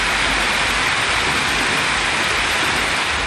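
Heavy rain pours down in Keelaiyur and Thalaignayiru in Nagapattinam district, a loud, dense, continuous roar of falling water with no pauses and no voices.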